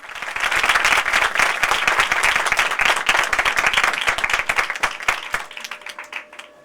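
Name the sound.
congregation applauding in church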